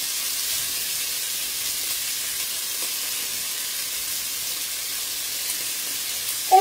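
Rabbit pieces brown in a cast-iron pot, giving a steady, even sizzling hiss that holds at constant strength throughout with no voices.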